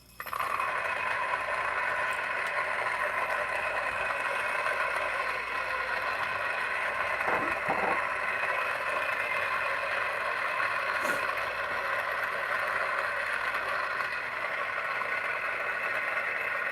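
Option-O P64 Mizen coffee burr grinder running at 300 RPM, a steady, continuous whirring hiss with a quiet motor, holding evenly throughout with a few faint scrapes and clicks near the middle.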